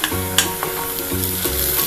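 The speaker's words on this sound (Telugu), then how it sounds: "ఉల్లిపాయలు వేసి ఎర్రగా వేయించుకోవాలి." Onions fry in hot oil until browned, giving a steady loud sizzle with occasional stirring scrapes in the pan, close and continuous, no voices.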